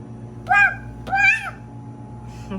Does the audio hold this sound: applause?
no